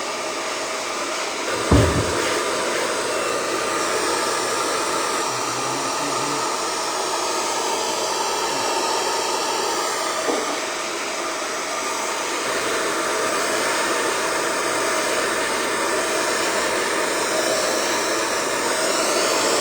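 A hair dryer blow-drying short hair with a brush blows continuously with a steady, airy whir, close and fairly loud, its tone shifting slightly as it moves around.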